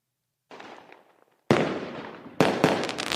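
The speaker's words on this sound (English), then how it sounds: "But I got to give you the fireworks, brother, because I appreciate that." Fireworks sound effect: a faint crackle followed by two loud sharp bursts, each spreading into a hissing, crackling decay, with no voices.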